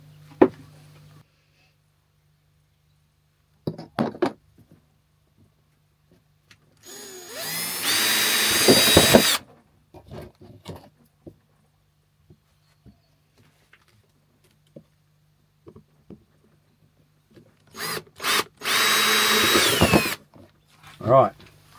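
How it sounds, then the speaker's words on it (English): Two loud bursts of a power drill boring through material, each lasting a couple of seconds, separated by quiet handling clicks and rustling. "So anyway, I shall drill my first hole."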